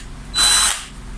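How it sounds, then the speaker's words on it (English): An electric drilling machine boring a hole gives one short, high whine that rises, holds for about half a second and stops, loud and close against a quiet background. "So we use this to drill a hole inside the objects."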